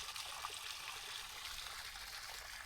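Water runs at Bortalav lake park in Bhavnagar as a steady, even rushing wash with no breaks, fairly soft and heard alone without voices.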